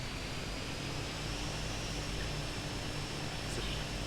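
Idling aircraft engine in the Arma 3 video game, a steady low drone with a broad airy hiss and a thin whine, constant and moderately close for the whole stretch with no voices.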